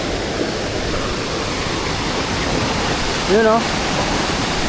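Waterfall beside a campsite, a steady broadband roar of falling water filling the whole clip, with a brief voice speaking over it near the end.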